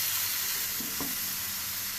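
Vegetables for a rohu fish-head muri ghonto sizzle in a pan, with a dense, steady hiss close by and a brief stir or scrape near the middle, and no talking.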